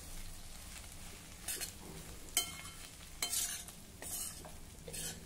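Spoon stirring a vegetable stir-fry in a pan after coriander is added, with soft sizzling under several scraping, clinking strokes spaced a second or so apart, close and moderately quiet.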